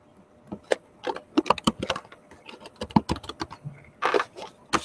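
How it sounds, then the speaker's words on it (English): Typing on a computer keyboard during a version control demo: irregular bursts of sharp key clicks, close and fairly loud, with no one talking. "okay, so you can see I'm typing, and you use the arrow keys to move around"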